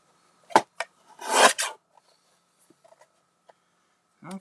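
A paper trimmer slices craft card for a metallic Halloween card, with a couple of quick rasping cuts, then a longer scraping pass, followed by faint small taps and a short rustle near the end.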